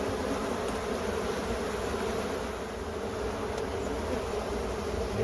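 Honeybees drone in a steady, continuous buzz at an open hive during an inspection, the hum close and even throughout with no voices.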